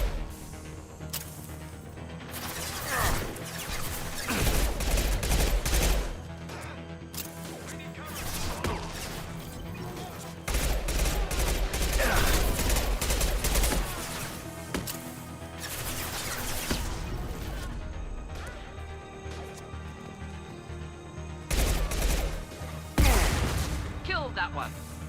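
Gunfire in Mass Effect 2 combat: heavy repeated shots and crashing impacts come in dense irregular bursts, loud and near, with voices talking over the fighting.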